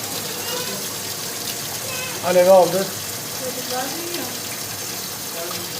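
Hot water running from the tap of a Wisman F4 condensing combi boiler after repair, a steady hiss of flowing water throughout, with brief talk over it in the middle.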